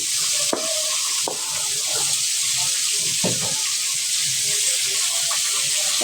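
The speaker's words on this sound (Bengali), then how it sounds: "এখানে পেঁয়াজটা লাল লাল করে ভাজা নিব" Chopped onions fry in oil in a kadai, making a loud, continuous sizzle. Scattered sharp scrapes and clicks of stirring break through it, with no speech.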